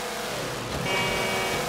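Car engine in the Halo 4 video game, a steady motor drone that swells slightly louder midway, as if accelerating, with no talk over it.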